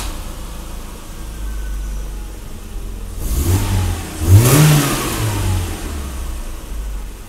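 A BMW E30's engine runs with its idle control valve fully closed, a steady low rumble that swells into a brief rev in the middle before settling back to a smooth, even idle, loud and close with no voices.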